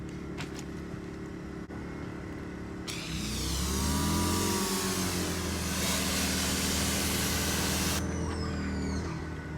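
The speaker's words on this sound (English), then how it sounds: "let's turn back on the pressure washer and let's see if there's any holes" A pressure washer, switched back on to test a hose for holes, kicks in about three seconds after a low steady hum, jumping to a loud, close, continuous motor roar with a rising whine and hissing spray that carries on to the end, with no talking.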